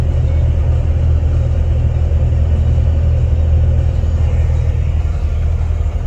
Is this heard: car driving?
yes